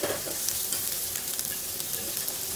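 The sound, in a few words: sautéing ginger, onion and garlic in a pan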